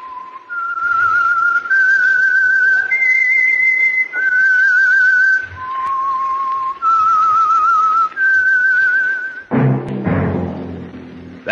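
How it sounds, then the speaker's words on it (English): A lone human whistles the eerie signature theme of the old Signal Oil radio mystery program The Whistler, a clear, sustained melody of held and gliding notes, ending with a brief burst of orchestral sound. "That whistle is your signal for the Signal Oil Program, The Whistler."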